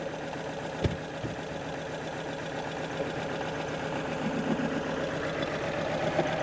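An old Mercedes W124 coupe engine idles roughly after sixteen years parked in a barn, a steady lumpy low rumble with a couple of sharp knocks near the start and no talk over it.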